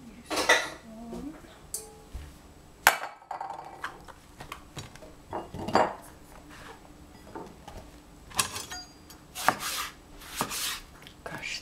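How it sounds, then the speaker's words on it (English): A spoon scrapes and clinks in a heavy bowl while cooking angel hair pasta with cabbage, eggplant and minced pork, giving repeated short scraping and knocking sounds at uneven intervals. "This bowl is too heavy. Use a spoon."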